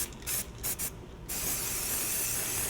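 Spray can laying a top coat over a hand-held stencil: a few short hissing bursts, then one long continuous hiss, close and clear.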